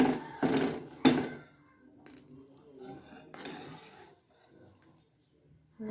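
A spoon stirs thickening homemade ghee made from butter in a pan, giving a few sharp metallic scrapes and knocks, then softer intermittent rubbing and bubbling that fades near the end.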